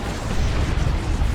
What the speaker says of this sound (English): Executioner Cannon here